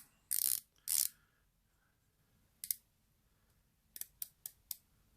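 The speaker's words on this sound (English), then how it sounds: "It is 120 clicks bezel, unidirectional, almost no play at all in it." A 120-click unidirectional bezel on a Neminus Master Diver prototype watch turns with sharp ratcheting clicks: two short rasping runs, a lone click, then four quick separate clicks, close and quiet.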